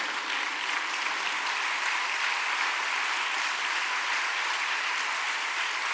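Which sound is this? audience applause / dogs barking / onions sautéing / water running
audience applause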